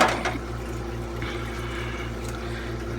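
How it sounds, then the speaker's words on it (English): Water draining steadily out of an aquarium tank in a fish room, a continuous close trickle and splash under a low pump hum, with no talk. "Actually, there is water coming out"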